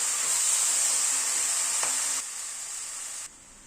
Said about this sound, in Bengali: টমেটোটাকে দিয়ে মিনিট 3-4 সময় ধরে কষিয়ে নিলাম।